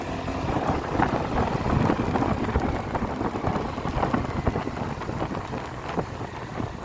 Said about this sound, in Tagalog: Lakas din yung ulan.